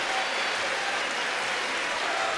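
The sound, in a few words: basketball arena crowd applauding and cheering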